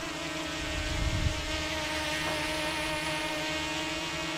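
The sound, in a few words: F007 drone flying with brushless motors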